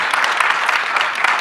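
Audience applause at CPAC, a political conference, steady dense clapping from a crowd filling the whole stretch with no voices over it.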